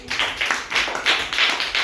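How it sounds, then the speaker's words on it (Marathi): Primary-school children at a village Zilla Parishad school clap together for a classmate who has just read aloud, a short, close burst of quick, uneven rhythmic claps. "टाळ्या वाजा सगळे वैष्णवसाठी"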